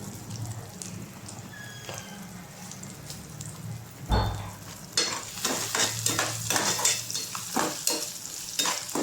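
Cumin goes into frying ginger garlic paste for upma: a soft steady sizzle in the pan, then a sudden clatter as the seeds drop and a spoon stirs, bringing crackling, popping bursts that continue close and lively.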